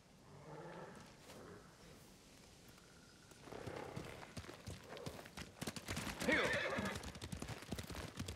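Horses galloping in the Ghost of Tsushima video game: quiet at first, then a rush of close, rapid hoofbeats with a loud whinny partway through, continuing to the end.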